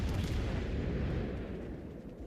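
Torpedo explosions in a naval video game, a dense, sustained low rumbling blast filling the whole short stretch, loud and continuous and fading slightly toward the end, with no talking over it.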